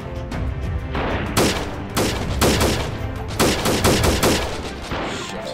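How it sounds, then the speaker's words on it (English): Loud bursts of gunfire in the video game Freeman: Guerrilla Warfare, rapid repeated volleys of automatic shots coming in several close clusters. "Stop firing, assholes!"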